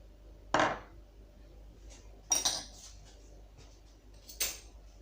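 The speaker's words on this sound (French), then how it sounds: "Donc on va mélanger tout dans la poêle" Butter, salt, pepper and nutmeg being stirred together in a frying pan, heard as three sharp utensil clinks and scrapes against the pan spaced about two seconds apart over a quiet kitchen background.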